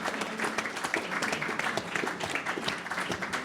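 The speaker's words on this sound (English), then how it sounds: "give a big hand of applause to Michael Greenberg" Audience applause at a CEOs roundtable panel during a London summit, a steady wash of clapping from a crowd, moderately loud and continuous, with faint voices mixed in.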